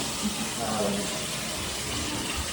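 A tap runs in the kitchen of a newly built home, giving a steady hiss of flowing water, while people talk quietly over it during a walkthrough.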